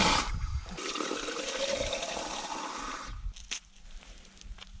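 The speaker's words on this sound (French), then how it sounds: "c'est là que je vais mettre de l'eau." Water gushes steadily from a tap into a bottle during a refill stop on a long cycling ride, a loud, close rushing pour that cuts off after about three seconds, followed by a few faint clinks and handling sounds.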